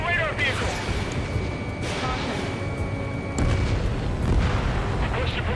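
Explosions and booms from destroyed targets in the combat flight game Ace Combat 7, a dense, loud wash of blasts and rumbling under continuous battle noise, with radio voices talking over it.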